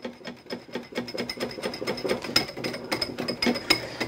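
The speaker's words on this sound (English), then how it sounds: "This will whisk together real easily and come out to be a batter type consistency." Batter ingredients for a pot pie whisked in a bowl, heard as a fast, steady run of close clicking and rattling strokes from the whisk against the bowl, with no talking.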